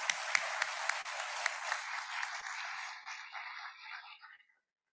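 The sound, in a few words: applause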